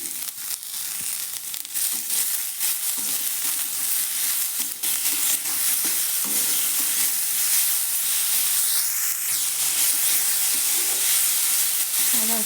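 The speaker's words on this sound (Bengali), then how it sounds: "কিছুক্ষণ ভালো করে ভেজে নিচ্ছি।" Chopped vegetables with turmeric and salt fry in a pan, giving a loud continuous sizzle and hiss with intermittent scraping and stirring, steady throughout and without any talk.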